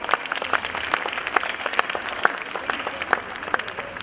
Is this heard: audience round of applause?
yes